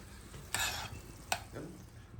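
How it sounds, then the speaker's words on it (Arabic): Tuna frying in oil in a pan, with two brief scraping stirs over a faint steady sizzle, close and quiet, no voices. "سادتنا المشاهدين بدأنا خلصنا خلاص تحمير تونة."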